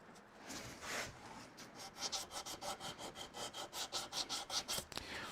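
Rhythmic back-and-forth rasping of hand sanding on wood, a quick regular series of strokes, close and fairly quiet.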